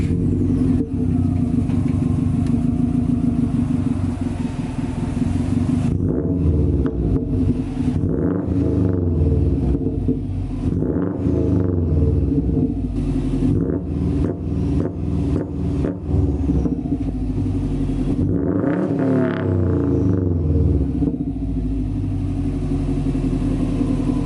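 A Subaru engine with a newly fitted straight pipe exhaust idles loud and close with a deep, raspy rumble, then blips and revs in repeated bursts that rise and fall before settling back to idle.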